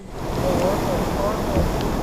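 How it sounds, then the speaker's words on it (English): Storm-driven surf surges and crashes against an eroding coastal shoreline in Washington state, making a brief, loud, continuous roar of breaking water with wind rumble. "surging waves crashing into the eroding shore"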